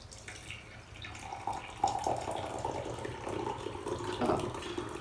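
Tea pours steadily into a cup at close range, a soft continuous splashing with a few brief clinks, no talking.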